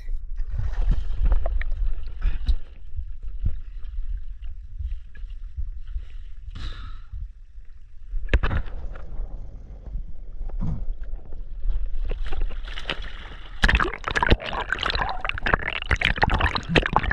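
A small boat moves across water with low rumbling wind buffeting and intermittent splashes and thumps, growing louder and choppier toward the end.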